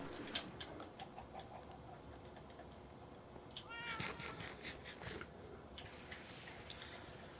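Several kittens meowing in Minecraft, a string of high, thin mews rising over a steady game background with soft ticking, moderately faint and without speech.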